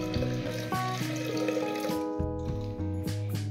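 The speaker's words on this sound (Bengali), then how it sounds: "এবার পরিমাণ মতো জল দিয়ে দেব।" Water poured into a pressure cooker of lentils being boiled for a prawn and biuli dal, a steady splashing flow with ringing, bubbly tones throughout.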